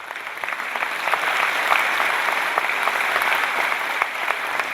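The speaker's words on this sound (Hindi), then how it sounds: "मैं आप लोगों का स्वागत करता हूं तालियां बजा करके" Steady, dense applause from an audience welcoming guests at a Dhamma Vijay Divas gathering in Delhi NCR, sustained and fairly loud with many overlapping claps.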